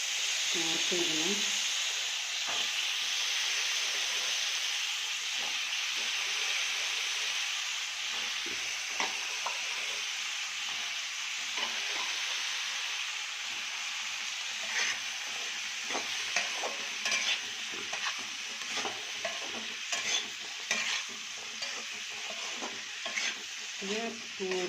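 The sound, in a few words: sautéing Chinese potatoes (koorka) with masala in a pan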